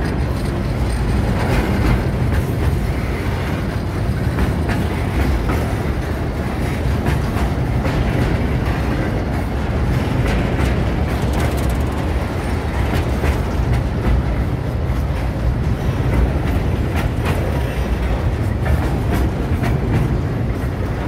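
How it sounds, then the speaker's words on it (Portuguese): A train rumbles past close by for a long stretch, loud and continuous, with rhythmic clickety-clack of wheels over the rails. "passa um trem desse e para tudo o trânsito"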